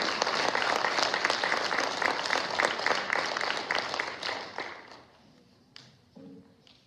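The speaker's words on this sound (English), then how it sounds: "A round of applause for these talented musicians." Audience applause fills a school band concert hall, steady dense clapping for several seconds before tapering off into a quieter room with scattered sounds.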